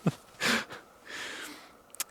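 A dog running loose in the woods sniffs close by in a few quick, sharp bursts of inhaling, with quiet pauses between.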